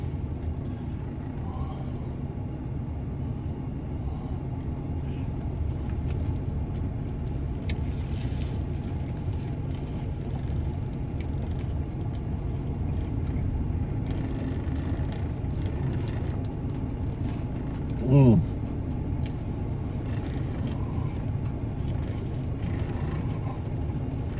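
Steady engine drone and road rumble inside a moving truck, a constant low hum throughout with one brief sharper sound near the end.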